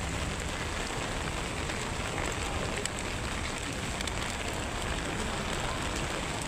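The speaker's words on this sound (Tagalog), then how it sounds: "I just love walking in the rain" Steady rain falls around a pedestrian walking through Global City in the Philippines, a dense, even hiss of drops on pavement and surfaces that holds unbroken and fairly close the whole way, with no voices.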